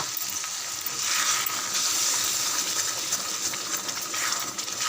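Garlic and tomato chutney sautéing in a pan gives a steady, dense sizzle and fry crackle that holds for the whole stretch at even loudness, with no voices over it.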